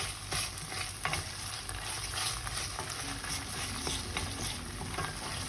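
Tomato paste sautés in a pan with cumin, isot pepper and chili flakes, giving a steady close sizzle broken by repeated stirring scrapes, with no voices.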